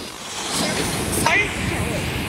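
Ocean waves wash up on a beach in a steady broad rush with wind across the microphone, and a voice briefly sounds over the surf.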